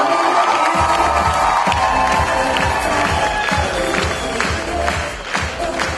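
An audience at a KVN comedy show for Knowledge Day bursts into applause and cheering, dense rapid clapping mixed with shouts from a large crowd, loud and sustained throughout.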